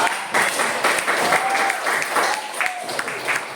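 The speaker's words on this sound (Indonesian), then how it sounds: "Kita ada beri tepuk tangan dulu untuk diri kita ya." A classroom of students clapping for themselves during a lesson, several pulsing bursts of fairly close applause with a little voice and a brief whistle-like tone mixed in.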